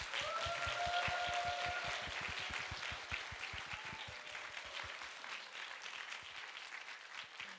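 An audience claps warmly to welcome Pastor Na Do-hoon to the front for a talk on calling, a full burst of steady applause that gradually thins out.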